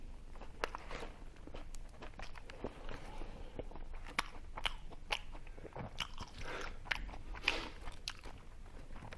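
Close crunchy chewing and biting of a hamburger, with irregular soft clicks and munches throughout, quiet and intimate with no talking.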